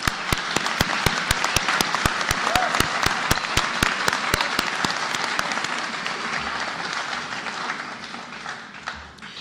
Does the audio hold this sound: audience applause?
yes